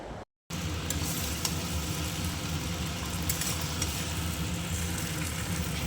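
Chicken being fried and stirred into a spice masala for biryani, giving a steady close sizzle with scraping stirs throughout after a brief gap at the start.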